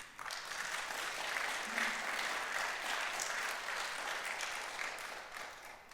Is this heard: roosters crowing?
no